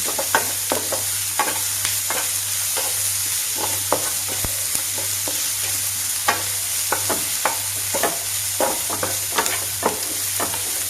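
Mushrooms fry in a little oil in a pan: a constant close sizzle with repeated stirring scrapes and clicks of a utensil, and no talking.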